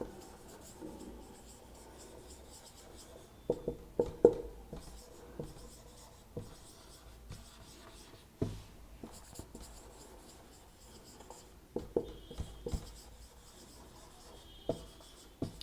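Pen or marker scratches across a board as a logic premise is written out during a lecture, with irregular clusters of short strokes and taps, close and quiet, no talking over it.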